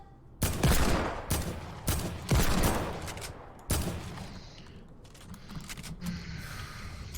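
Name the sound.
gunfire in a video game shooter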